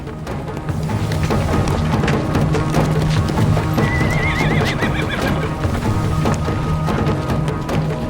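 Horses in a marching column in ancient Egypt neighing and whinnying over steady clip-clop of hooves, loud and continuous, with a dense rumbling layer of movement throughout.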